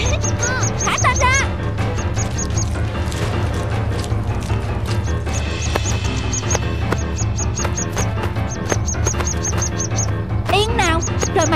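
A cartoon skylark chirps in quick repeated bursts of high tweets, loud and up front over busy animated music and sound effects with crashes, as voices talk in a folk tale cartoon.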